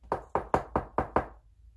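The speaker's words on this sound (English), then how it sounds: "knock on wood. Like, since my desk is made out of wood." Six firm knocks on a wooden desk, evenly spaced and close, each a short hollow rap in a quiet room.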